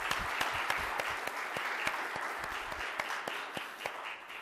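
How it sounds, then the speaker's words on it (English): An audience applauds a City University of New York educational leadership award recipient, steady clapping from a moderate-sized crowd with distinct individual claps standing out, somewhat distant and quiet, no talking. "Let's give her a big round of applause."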